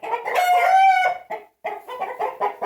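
A chicken-coop rooster lets out one long, loud crow, then follows with a string of short, rhythmic clucks, close and clear with no other sound.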